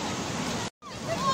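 Water rushing steadily at a scenic outdoor spot, a broad continuous wash of flow broken by a brief gap, with faint voices and a whistle-like tone over it.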